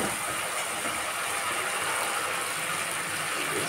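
Water poured into a hot pan of ground spices, chili and cashew paste sizzles loudly and continuously, a dense, steady hiss with no talking, while cooking hilsa fish.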